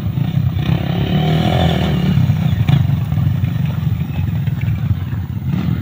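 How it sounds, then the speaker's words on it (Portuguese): A work motorcycle towing a trailer runs steadily nearby at low revs, rumbling along with some rattling and scraping as it moves over a rough dirt trail. "Uma moto de trabalho dele com reboque tá fazendo a trilha."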